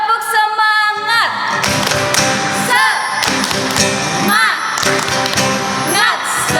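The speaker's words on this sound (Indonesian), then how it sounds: "Tepuk semangat." Children at a Sunday school service do the tepuk semangat clapping routine, rhythmic claps and thumps in a quick pattern mixed with chanting and cheerful voices, a musical tone briefly heard at the start.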